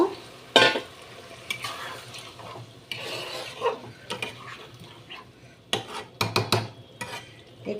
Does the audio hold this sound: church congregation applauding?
no